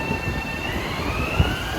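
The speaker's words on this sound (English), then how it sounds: "As we say goodbye to this train, headed for Babylon, the next stop and last stop." A commuter train pulls out of a station bound for Babylon, giving a steady rumble of wheels and rails with a faint high tonal whine and a single dull clunk, continuous and fairly close.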